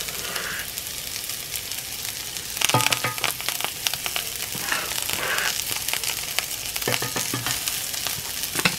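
Garlic and parsley frying in a cast iron pan, a steady loud sizzle and crackle with stirring bursts throughout, close by with no voices.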